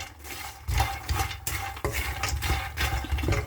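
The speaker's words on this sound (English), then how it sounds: "And I'm going to stir it nice." A spoon stirs makhana lotus seeds with Lakadong turmeric in a pan, giving rough scraping and rustling strokes with small clatters, close and fairly loud, with no talk.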